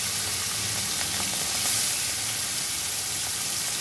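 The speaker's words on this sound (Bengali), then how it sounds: "চিংড়ি মাছগুলো ভেজে নিচ্ছি।" Shrimp rubbed with salt and turmeric fry in hot oil left over from frying potatoes, giving a steady, close sizzling hiss that runs evenly throughout with no talking.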